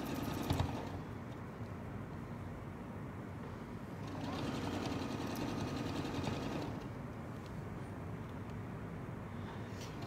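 A sewing machine stitches free-motion flowers with the needle-down setting, a steady mid-level whir running continuously, swelling louder for a couple of seconds midway before settling back.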